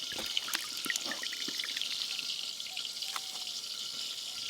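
Water being poured off after grinding spinach during home cooking of fish curry and palak paneer, a steady close splashing, trickling stream with scattered drips and clinks.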